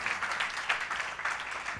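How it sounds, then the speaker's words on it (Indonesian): Congregation clapping during a church worship service: a brief burst of many hands, loud and continuous, with a slight pulsing rhythm. "Mari berikan tepuk tanganmu"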